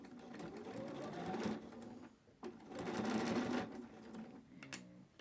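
Sewing machine stitching fabric along an ironed crease: two close bursts of rapid mechanical whirring and needle chatter separated by a brief stop, with a softer run at the end and quiet background.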